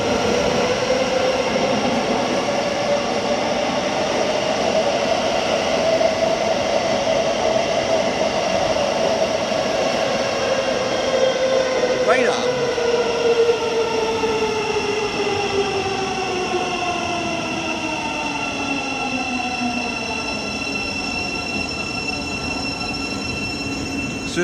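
Train at a platform in London St Pancras International, giving a loud, continuous rumble with drawn-out squealing wheel and motor tones that glide downward as it moves through the station, and no one talking.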